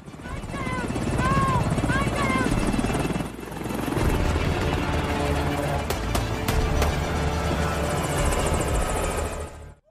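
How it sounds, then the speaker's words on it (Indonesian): Helicopter flying away from a lifeboat in a film about a hijacked container ship, its loud rotor thrum steady throughout under a narrating voice and some chirping sound effects. "Helikopter itu pun langsung menjauhi Skoci."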